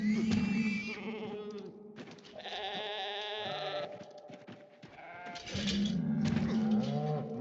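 Penned cattle and other livestock in a farm zombie-survival video game bleat and low repeatedly, loud overlapping calls with steady background game ambience and no talking.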